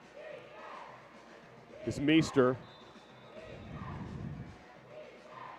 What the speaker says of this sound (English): They are not pumping crowd noise into the stadium. That is all the crowd.